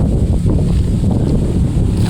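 Strong wind blows outdoors, buffeting the microphone with a loud, steady low rumble and gusting roar throughout, with no speech.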